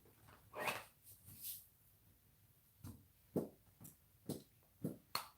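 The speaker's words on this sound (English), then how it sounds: "my dog is like vigorously wagging her tail in her sleep" A sleeping dog's tail thumps in irregular bursts, several soft muffled beats spaced across a quiet room, some close together and others after long pauses, with no talking.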